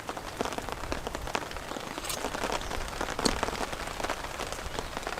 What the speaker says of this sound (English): Nice shots of the rain hitting the water.